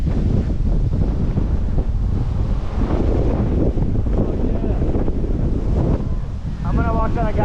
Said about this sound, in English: Charlie, it's getting windier.